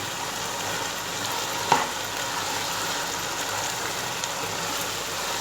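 Peas are stirred into sizzling keema in an Old Delhi-style aloo matar keema: a steady, close frying hiss runs throughout, broken by one brief clatter of stirring.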